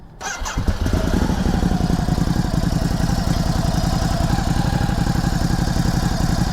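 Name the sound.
motorcycle engine starting and idling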